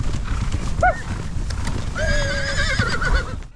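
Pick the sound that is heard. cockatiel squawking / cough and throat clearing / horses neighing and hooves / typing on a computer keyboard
horses neighing and hooves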